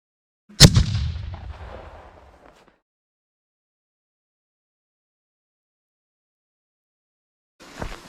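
A single powerful hand grenade explosion booms nearby, its roar fading over about two seconds into silence, then another burst of noise starts near the end.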